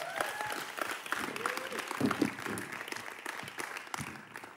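Applause from a crowd at a church service fills the space, steady clapping with some voices mixed in, moderately loud throughout.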